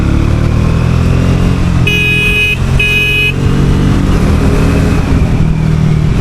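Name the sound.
Triumph Speed T4 motorcycle pulling in fourth gear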